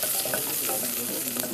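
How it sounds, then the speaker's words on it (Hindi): Onion gently frying in a pan for a tomato-based soup, giving a steady soft sizzle with faint stirring scrapes throughout, close and continuous with no talking. "यहाँ पर प्याज जो है हमारा थोड़ा सा हल्का सा फ्राई होगा, ज़्यादा नहीं, हल्का सा"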